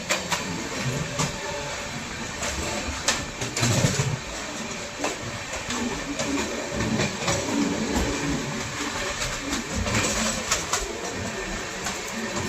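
The Godda–Duarai Express overtaking the Shivganga Express on a parallel track near Kanpur, heard from aboard a moving train as a steady, close rumbling of wheels and carriages with rattling clanks.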